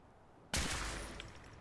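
A Kiloton rifle fires once in the Fallout 4 Far Harbor game, a sudden loud blast that rings out and decays slowly over a second, with no talking.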